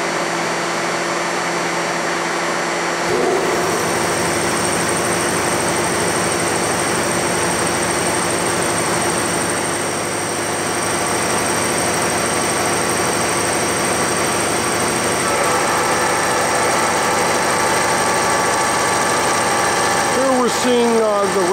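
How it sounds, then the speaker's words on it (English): A Lucas 441B-72 table-type horizontal boring mill running its rapid traverse gives a steady, loud mechanical whine and hum that holds evenly throughout, with faint clanks near the end. "The rapid traverse of the machine, and everything on this machine operates correctly and smoothly."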